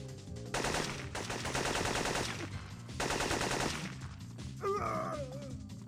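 Automatic gunfire rattles in bursts in the video game Syphon Filter, loud and close, with a short vocal groan near the end and no speech.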